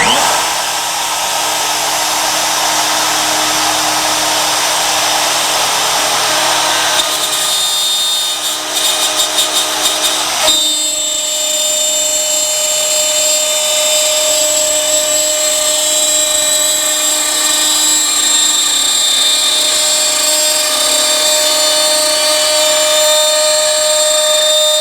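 A power drill with a 3/16 inch bit bores into wood with a loud, sustained high-pitched whine. Its tone shifts as the bit bites, and it keeps running steadily for the whole stretch with no talking.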